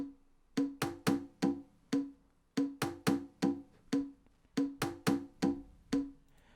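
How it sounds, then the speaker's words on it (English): Programmed conga percussion in FL Studio for a soulful deep house groove plays alone as a clear, close loop of sharp, resonant hand-drum hits in syncopated clusters with short gaps between. "the next pattern was the congas"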